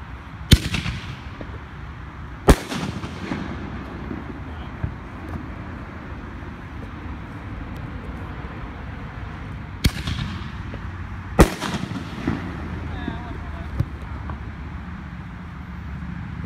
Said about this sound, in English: Too distracted from shooting my fireworks, I'm watching this guy shooting his.